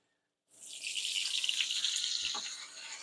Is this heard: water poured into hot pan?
yes